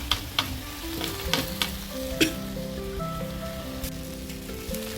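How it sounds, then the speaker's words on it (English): Fried mushrooms are stirred into chilli sauce in a pan, giving a steady soft sizzle broken by light scraping and clicking stir strokes close by. "Next ఇందులో మనం fry చేసుకున్న మష్రూమ్స్ యాడ్ చేసుకోవాలి."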